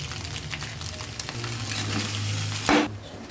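Capsicum, onions, cabbage and chicken frying for chicken fried rice, a continuous close sizzle with stirring, a brief louder clatter near the end, no talking.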